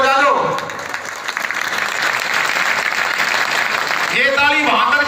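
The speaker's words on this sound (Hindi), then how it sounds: "भाई एक बार और ताली बजा दो।" Crowd at a Delhi election rally claps loudly and continuously, dense applause filling the whole stretch with a voice over a loudspeaker briefly audible at the start and end.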